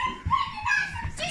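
A dog whimpers and gives short yips while a household gets ready to take it out for a walk in the snow, close by, mixed with people talking.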